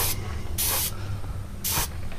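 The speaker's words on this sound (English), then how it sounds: "I can spray here." Aerosol spray paint hissing onto a scale model in three short, loud bursts separated by quieter gaps, close to the microphone.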